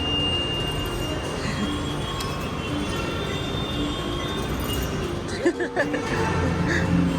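A train rumbles steadily nearby in Bengaluru, India, with a continuous roar, then clanks and rattles briefly as cars pass, while people talk faintly.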